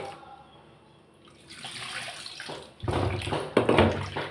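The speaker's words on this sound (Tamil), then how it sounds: "இப்போ புளியை கரைச்சிக்கிறேன்." Tamarind is squeezed and dissolved by hand in water in a home kitchen for fish curry, with soft sloshing and splashing that grows louder in the second half, close by and without talk.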